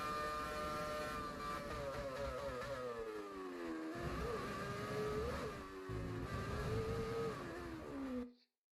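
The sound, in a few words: Formula 1 car driving in GTA 5 FiveM video game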